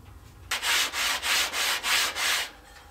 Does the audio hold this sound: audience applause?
no